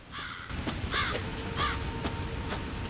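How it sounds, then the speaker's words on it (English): Crows caw in the Resident Evil 7 video game, several harsh calls spaced out over a steady low ambient rumble, with no one speaking. "Shut up, birds!"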